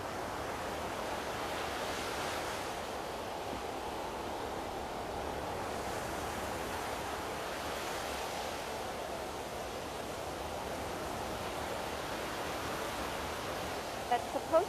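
Recorded ocean sounds play during a chair tai chi class, a soft, constant whooshing surf that resembles fan noise, faint and unbroken throughout with a couple of small clicks at the end.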